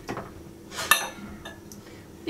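A spoon stirring yogurt with olive oil, mint and salt in a bowl gives a few quiet scrapes and one bright clink against the dish, close and brief, without talk.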